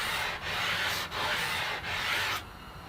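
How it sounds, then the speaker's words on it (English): A sanding block worked along an epoxy-coated wooden guitar fretboard, three long even rasping strokes with brief pauses, loud and close, ending in a quieter stretch. "I'm going to sand a slight radius into the fretboard."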